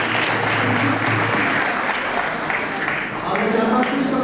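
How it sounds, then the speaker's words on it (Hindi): Loud applause from a church congregation during a Christmas Day service at a Methodist church in Mumbai, dense steady clapping throughout with murmured voices and some talk underneath. "आइए जोरदार तालियां दें प्रभु"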